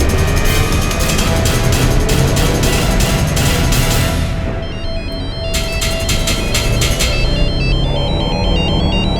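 A phone ringtone plays loudly in repeating bursts, a chiming electronic melody that pauses briefly midway before resuming.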